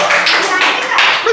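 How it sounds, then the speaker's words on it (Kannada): A stage audience claps for a singer in a short, dense burst of applause, loud and close, lasting only a moment. "ಬರ್ಲಿ ಜೋರಾದ ಚಪ್ಪಾಳೆ"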